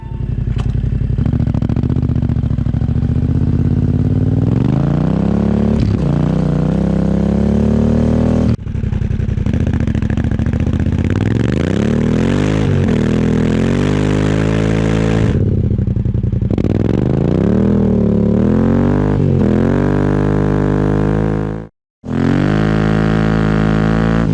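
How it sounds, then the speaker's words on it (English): A Yamaha Tenere 700 motorcycle with an aftermarket Yoshimura or Scorpion muffler revs loudly and close, its engine pitch climbing and falling in repeated throttle blips, with one brief cut near the end. "let's do a little sound comparison between the Yoshimura before I take it off and compare it with the Scorpion muffler"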